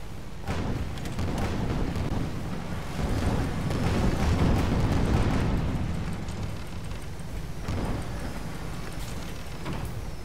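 Rumbling, booming blasts from a rocket explosion in the airship combat game Guns of Icarus, a loud sustained roar swelling toward the middle with scattered sharper bursts, no voices.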